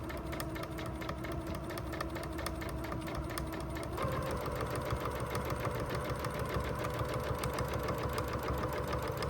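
A sewing machine backstitches through a messenger bag, a fast steady mechanical whir with rapid rhythmic needle clatter that shifts pitch partway through as the direction reverses.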